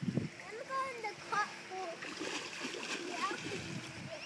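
A child splashes about in water while people talk and a voice chatters over the steady wet sloshing, with one sharp splash at the start.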